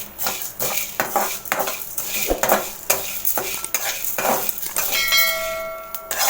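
A metal spoon stirs and scrapes lentils, rice, cumin and pepper as they dry-roast in a pan, making steady rhythmic clinks and rustling with a faint sizzle and no one talking.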